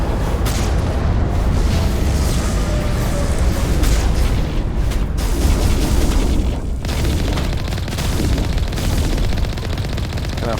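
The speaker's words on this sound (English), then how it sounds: "Can I fire both cannons at once?" Twin cannons on the Mako tank in Mass Effect fire in rapid, loud bursts, booming and rattling continuously amid explosions during vehicle combat.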